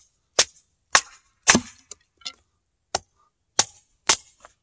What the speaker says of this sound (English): The cedar's real nice because it splits so easy.